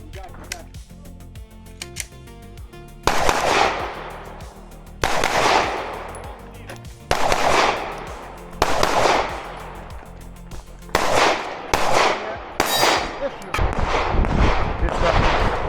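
Pistol shots at a USPSA shooting match, loud and sharp, each ringing out with an echoing decay. Single shots come first at steady intervals, then a faster cluster of rapid shots at the end. Faint voices are heard in the background.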